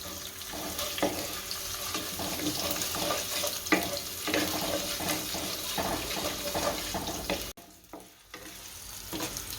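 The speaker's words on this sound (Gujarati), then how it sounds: "અને શેકી લેવાનું, કલર બદલાય ત્યાં સુધી શેકાવ દેવાનું તેલમાં" Urad and chana dal roast in hot oil for upma while being stirred, a continuous sizzle with repeated scraping strokes of a utensil in the pan, close up, briefly cutting out near the end.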